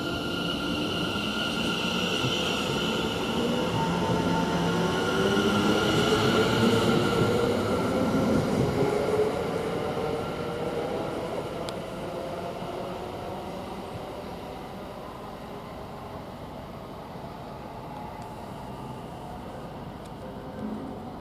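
Passenger train from Ipswich to London Liverpool Street pulling out of Witham station, a steady close rumble of wheels and motors that swells around the middle and then slowly eases as it draws away.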